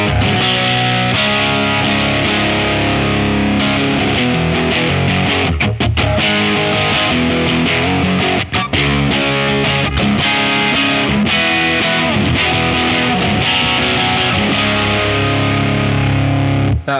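Loud, heavily distorted electric guitar with pickups in split-coil mode chugging and strumming chords through a small, loud rig, with a thinner, brighter tone and a few brief stops in the playing.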